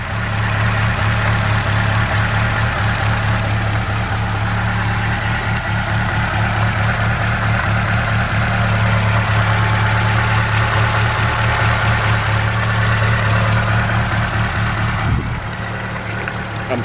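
A Ford Capri engine idles steadily and loudly at about 1000 RPM with a low, even rumble throughout, briefly dropping off near the end.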